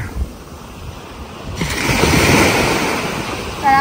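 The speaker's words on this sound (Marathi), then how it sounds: "आणि इथं पाठीमागं समुद्र आहे" Sea waves wash onto the shore at Mandavi in Kutch, a soft steady surf that swells louder partway through, with wind rushing across the microphone and no talking.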